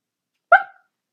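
A single short bark from Fetch, the dog in a Five Nights at Freddy's game, sounding alone and clear against complete silence.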